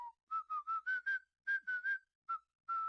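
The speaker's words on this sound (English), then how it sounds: "I can reduce the volume on my whistling" A person whistles a simple tune of short, clear, repeated notes in a steady rhythm with brief pauses between phrases. The whistling is close, moderately quiet and heard alone.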